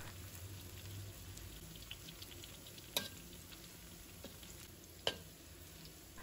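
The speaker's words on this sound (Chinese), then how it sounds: "熬葱油我们一定要有耐心，小火慢熬，时不时的翻动一下" Scallion roots and whites, with shallots and ginger, slowly frying in oil over low heat: a faint, even sizzle with occasional soft clicks and scrapes of stirring, quiet throughout.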